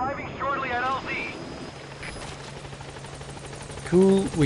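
Helicopter rotor and engine drone from the Pequod arriving at a landing zone in the video game Metal Gear Solid V, a steady hum running under game dialogue and talk throughout, with a louder swell near the end.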